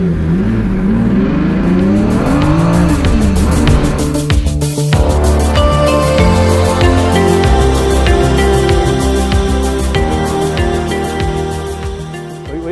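A loud Ferrari F50 V12 engine revs hard, pitch rising and falling through gear changes, then holds a strong steady high-revving roar close by.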